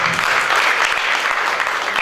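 A large audience claps in a sustained, dense burst of applause at a talk on India as an emerging global leader, steady and close throughout with no speech over it.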